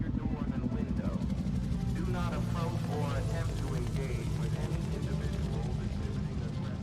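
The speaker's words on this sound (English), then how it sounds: "a helicopter flew overhead" A helicopter passes overhead in a zombie survival video game, a low, steady rotor thump that runs throughout, with a voice talking over it most of the way.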